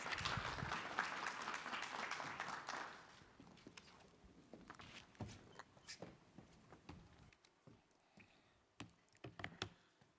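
Faint applause from an audience at an official World Habitat Day celebration swells briefly, then thins into scattered claps and footstep-like taps across a quiet hall.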